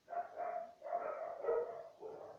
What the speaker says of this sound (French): désolé si vous avez entendu les chiens